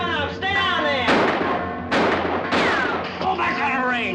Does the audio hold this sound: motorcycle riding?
no